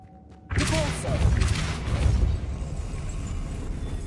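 Depulso spell cast in Hogwarts Legacy, a sudden loud booming burst that rumbles and decays over several seconds after a quiet start.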